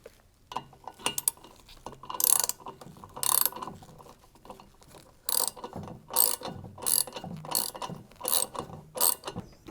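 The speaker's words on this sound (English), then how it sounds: "and then refit the bolt and washer in the center." A bolt and washer being refitted at the center of an LG washing machine give off a series of ratcheting, clicking mechanical bursts with short pauses between them, close and moderately loud, with no talking.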